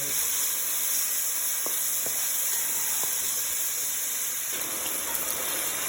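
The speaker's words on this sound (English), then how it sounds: "I added my meat to my trusty Dutch pot. And I'm browning the liver first." Liver browning in a Dutch pot, a loud, continuous close-up hiss of sizzling fat with a few faint knocks from the pot.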